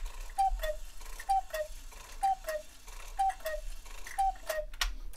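A Black Forest cuckoo clock with brass and steel movement calls five times in a steady rhythm, each two-note cuckoo soft and wooden with no gong, set against a faint low hum.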